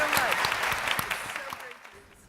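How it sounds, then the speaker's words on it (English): A conference audience at an animal-welfare keynote applauds with scattered, fairly distant clapping that gradually fades away, with a voice speaking over it. "So let's also applaud Maddie's Fund right now."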